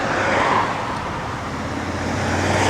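Cars stream by on a morning road, a continuous close whoosh of tyres and engines with a faint low hum underneath, heard from the roadside by a rider.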